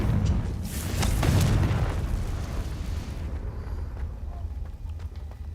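Confringo fire spell blast in Hogwarts Legacy: a deep, loud booming explosion swelling over the first two seconds, then a long rumbling decay with no voices.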